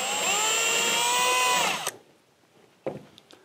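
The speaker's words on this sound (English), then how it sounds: "we'll drill a pilot hole with our bigger bit" A power drill whines steadily at high speed for nearly two seconds while drilling a pilot hole in a wall for a hollow wall anchor, then stops abruptly, followed by a few light clicks and taps.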